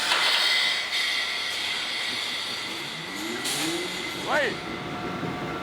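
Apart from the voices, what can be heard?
huge straight-8 two-stroke supercharged diesel engine starting up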